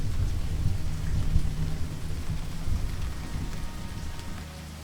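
Heavy rain falls in a steady, dense wash beneath deep rolling thunder during a night flood storm, with a loud rumble swelling around the middle before easing slightly, and no voices.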